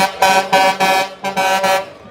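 A Peterbilt truck in an Independence Day parade blasts its air horn in four loud, close honks of about a third of a second each, with short gaps between them.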